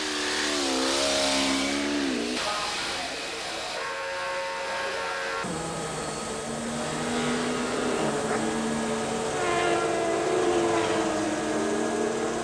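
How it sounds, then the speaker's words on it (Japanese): A Honda RVF TT-F1 racing motorcycle at Suzuka 8 Hours qualifying in 1991 screams past with a loud, high-revving engine, its pitch rising and falling through gear changes and sustained at full throttle throughout. "TTF1 クラス最速マシンと言われている RVF で疾走するビーティー"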